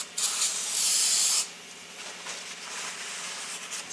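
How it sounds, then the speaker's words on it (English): Brake parts cleaner sprayed from an aerosol can onto the friction surface of a clutch during a rebuild, heard as a loud close hissing burst lasting over a second, then a softer continuing hiss. "So what we use is a brake parts cleaner."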